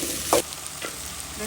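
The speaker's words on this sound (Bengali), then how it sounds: "ভাজা হতে থাক।" Tomatoes, green chillies and salt sizzle in a hot pan with steady frying crackle, broken by a couple of brief scraping stirs of a spatula, close and alone.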